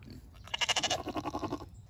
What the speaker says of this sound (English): We need to move the sheep